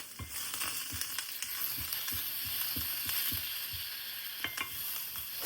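Onions fry in a pan with a constant faint sizzle, while regular clicks and scrapes of stirring tap out a steady rhythm.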